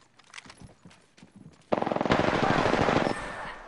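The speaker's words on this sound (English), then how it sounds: "He shot me through an object." Video game gunfire: soft scattered thuds and footsteps, then a sudden loud burst of rapid automatic shots firing in a fast, even rhythm for over a second before tapering off.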